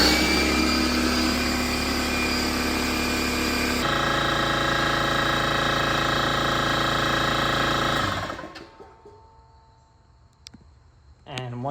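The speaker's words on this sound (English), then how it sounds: "now I'm going to start up the compressor like normal." A Fortress 27-gallon air compressor runs with a loud, steady motor drone and mechanical hum, then winds down and falls quiet, with only faint clicks and handling sounds afterward.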